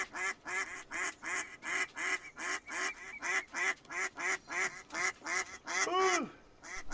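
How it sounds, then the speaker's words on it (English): Rhythmic quacking from a flock of ducks in a video game repeats in a steady, evenly spaced series of loud, nasal calls, ending in a drawn-out warbling quack. "I'm hearing more and more duck."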